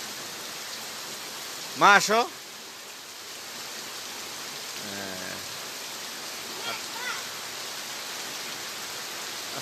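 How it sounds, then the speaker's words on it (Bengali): Heavy, steady rain pouring outside a house after falling all night, a constant close wash of noise. A voice and a brief adult voice speak over it. "খুব বেশি বৃষ্টি। গত রাত থেকে সারা রাত বৃষ্টি"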